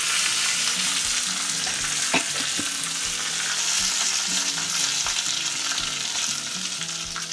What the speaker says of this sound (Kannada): ಜೀರಿಗೆ ಸಾಸಿವೆ ಚೆನ್ನಾಗಿ ಚಟಪಟ ಅಂತ ಇದೆ